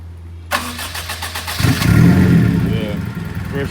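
A smart car's engine cranks and catches with a sharp start, then settles into a buzzing idle and revs up as the small car pulls away, close and loud.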